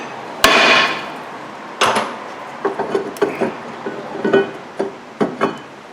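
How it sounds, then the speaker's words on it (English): A hammer strikes a rear brake rotor on a 2009-2014 Hyundai Sonata hub, with one loud metallic bang followed by a second and then a run of lighter, irregular taps close by. "you can just tap the rotor, and it usually pops right off once you take your screws out"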